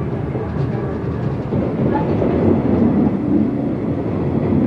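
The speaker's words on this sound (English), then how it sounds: "The train took him to Orlando" Suburban commuter train running on rails toward Soweto township, a steady loud rumble with rolling rail noise held throughout, close and continuous with no voices.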